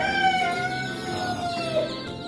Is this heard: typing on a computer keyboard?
no